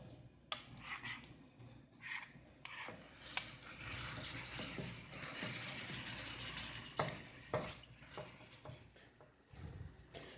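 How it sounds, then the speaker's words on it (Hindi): Marinated chicken mince frying in oil in a pan, a steady close sizzle broken by louder bursts and stirring scrapes, with no talking. "इसमें ये मैरिनेट किया हुआ कीमा डाल देना है।"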